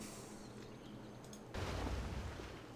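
Turn-based strategy game bombard attack from Civilization V: a faint low rumble, then a sudden loud cannon-like boom at the midpoint with a sustained crackling blast that carries on to the end.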